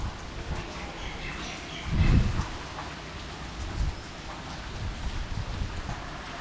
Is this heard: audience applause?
no